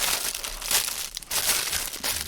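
The plastic parts bag from a Tamiya 1/24 Lancia Stratos Turbo model kit crinkles and rustles close up in a short, continuous burst of handling noise, with no talking.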